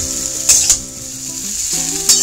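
Steady sizzling of vegetables frying in a pan for shukto, with a couple of soft clinks from utensils and a faint tonal hum underneath.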